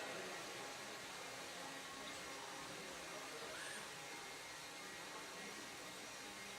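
A track blower at an indoor RC raceway, running as a steady, unbroken rush of air that stays fairly faint and even throughout with no voices.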